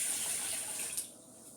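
Chicken broth pouring into a rice cooker pot, a steady liquid stream that trails off partway through, fairly quiet and close with no talking.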